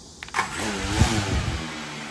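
An SG906 Max2 drone unlocks indoors and its motors spin up, a close, loud whirring whine that rises in pitch with layered harmonic tones, then holds steady, with no talking.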